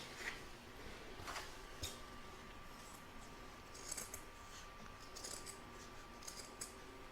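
Scissors trim embroidered fabric around the edge of an in-the-hoop scissor holder and pin cushion, making quiet, close snips that come in irregular clusters, several crisp cuts spread across the stretch with soft rustling between them.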